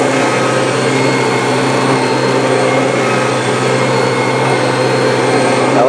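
Running over carpet, a Kirby G3 vacuum with a 7-amp motor and self-propelled drive holds a loud, unbroken roar and high motor whine close up, steady throughout with no speech.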